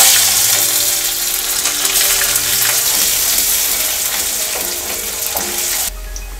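Chopped onion frying in hot oil with whole cumin seeds and other spices for a Bengali soybean curry, a steady close broadband sizzle with stirring scrapes throughout, cutting off sharply near the end.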